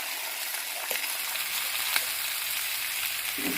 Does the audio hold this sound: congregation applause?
no